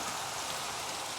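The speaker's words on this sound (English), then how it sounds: "and annoyed that it's raining." Steady rain pours in the Minecraft world, a dense, even hiss of falling water with no breaks, filling the whole moment without any talk.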